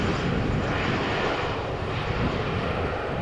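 An Embraer 175 jet arriving from Berlin at Amsterdam gives a steady, moderately distant broadband engine roar that holds evenly throughout, with no talk.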